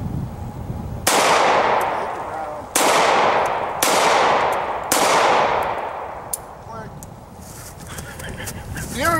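Four loud Hi Point pistol gunshots fired one at a time at an outdoor range, each a sharp crack with a long ringing tail, spaced about a second or two apart, then quieter background with faint bird chirps.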